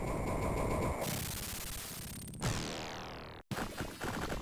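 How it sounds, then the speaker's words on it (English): An explosion sequence from the Mortal Kombat 2 ending on the Sega 32X, with loud, rapid crackling bursts like gunfire, a sharp sweeping change partway through, a brief dropout, then more choppy blasts. "Pretty cool explosion scene."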